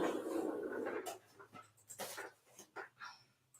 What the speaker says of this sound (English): You have the most calm dog sitting here